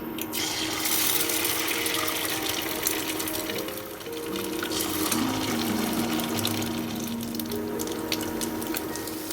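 Egg and chopped onion and chilli frying in a pan give off a steady, dense sizzle, with a low mechanical hum running underneath throughout.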